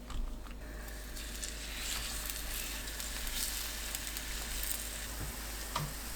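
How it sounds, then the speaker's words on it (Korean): Batter-coated kelp fries in a pan of oil with a steady, close hiss and crackle, holding at even loudness throughout, broken only by occasional small pops and no talking. "팬에 식용유 두르고 예열합니다. 다시마에 반죽 입혀서 팬 위에 올려주세요."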